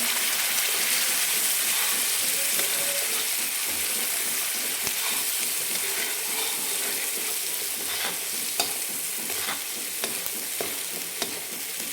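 An onion and coconut masala paste with whole spices is sautéed in a pan for a Maharashtrian mutton curry, giving a loud, steady close-up sizzle and frying hiss with occasional scraping stirs and no talk.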